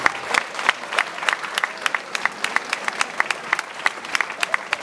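A crowd at a town festival award ceremony applauds steadily, a dense run of claps with brighter individual hand slaps standing out, moderately close, with no speech over it.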